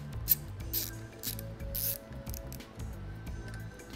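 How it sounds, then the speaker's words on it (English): Small screws tightened on an SPR style scope mount, quick ratcheting clicks of a driver repeating in close bursts with light metallic ticks, near and alone. "Now you can tighten these screws back up."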